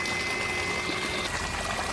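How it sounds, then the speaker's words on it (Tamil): Water gushing at high pressure from the outlet of a BLDC motor pump, a loud, dense, continuous rush that holds steady throughout with no voices. "தண்ணி நல்லாவே ஹை ப்ரெஷரில் வந்துக்கிட்டு இருக்கு"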